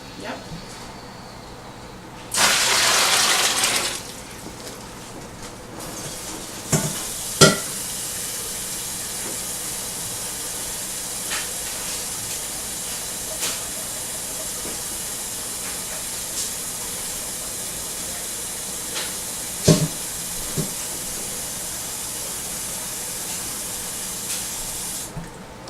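Warm tap water running into a bucket while making homemade liquid laundry detergent: a steady rushing hiss with a louder gush early on, a few clunks and knocks, and occasional voices.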